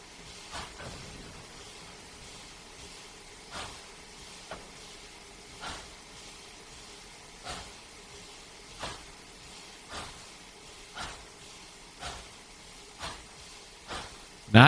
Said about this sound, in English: now let's listen to the chuff chuffs.